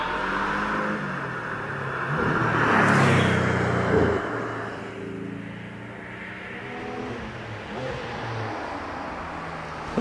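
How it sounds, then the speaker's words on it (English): A Porsche Cayman GT4 accelerates hard up the Prescott hillclimb course, its engine rising to a loud, revving pass, then fading and shifting through gears into the distance. "Richard York in his Porsche Cayman GT4 exit at Torres."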